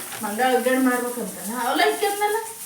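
Tempering with chopped green chillies sizzling in a pan on a gas stove, a steady frying hiss running beneath a person talking throughout.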